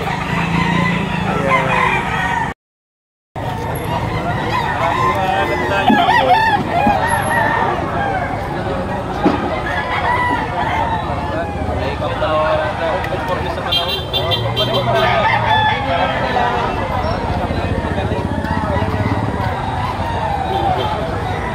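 Roosters crow repeatedly amid clucking and a crowd at a busy chicken auction, with people talking over the birds throughout.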